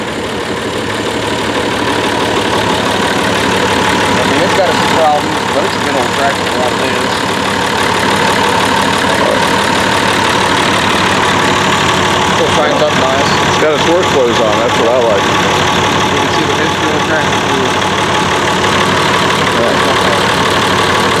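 A Cockshutt 1850 diesel tractor engine idles with a steady, loud, close-up rumble throughout, while people talk over it.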